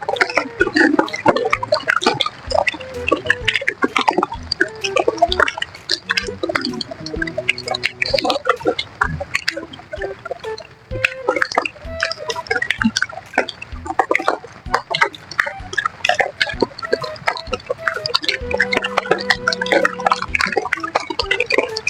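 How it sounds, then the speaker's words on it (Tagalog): Rain drips and patters irregularly at a riverside fishing spot thick with waterlilies, a busy close spatter of drops that runs throughout with no talk. "Naulan."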